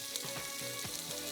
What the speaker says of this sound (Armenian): Տապակում ենք ու շատ արագ է պատրաստվում